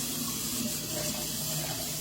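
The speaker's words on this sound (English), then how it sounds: "Now I'm just gonna run water through it." Tap water runs through a spray gun during cleaning after spraying RC liquid mask, a steady close rushing and hissing flow that continues evenly throughout with no talking.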